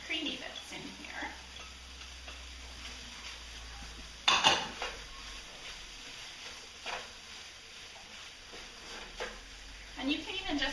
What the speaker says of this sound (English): I sometimes just stir it a couple times as I'm going here